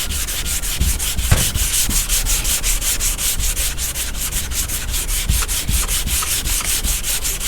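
Hand sanding of car body filler with 180 grit sandpaper on a Chevy Caprice body, brisk rhythmic rasping strokes repeating steadily at close range, with no talking.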